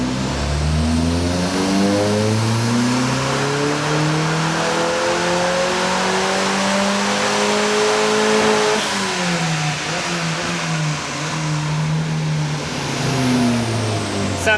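A car engine held at full throttle on a track, revving hard and steadily for the whole stretch, its pitch rising, dipping, then climbing again, loud and close with no talk.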